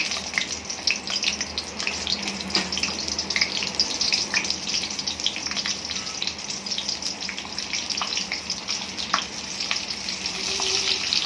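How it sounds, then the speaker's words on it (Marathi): Stuffed capsicums, filled chillies, frying in hot oil, a dense, continuous crackling sizzle with scattered sharp pops throughout, steady and close, with no talking. "आता आपण एक एक एक करून तळून घेऊया"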